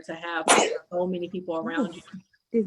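A single sharp sneeze bursts out close by, loud and brief, in the middle of a conversation between people talking.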